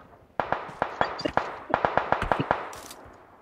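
Gunfire in the mobile battle royale game PUBG Mobile: a rapid string of about a dozen sharp, loud shots in quick irregular bursts, fading into a short tail.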